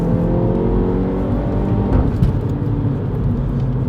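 A 300 hp Mini JCW, about 1.2 tonnes, launches hard from a standstill with its wheels briefly spinning, the engine droning loud and close with a steady low roar that shifts partway through.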